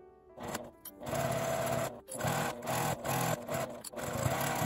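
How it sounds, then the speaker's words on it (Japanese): Electric sewing machine running in bursts of steady whirring stitches, stopping and restarting several times while sewing a 5 mm seam allowance on a coin-through wallet bag, close and moderately loud. "こんな感じで挟んで5ミリの縫い代で縫います。"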